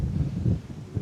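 Strong tramontane wind buffets the microphone in a low, rumbling roar that surges and dips over about a second, on a wild delta coast in Spain.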